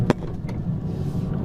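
A BMW M2 high-performance car drifts, giving a steady, close, low engine rumble with one sharp brief knock near the start, and no talk.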